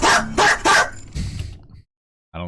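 A streamer imitates a dog, letting out three sharp, loud barks in quick succession, then a rougher growling bark before a short silence and another burst of voice.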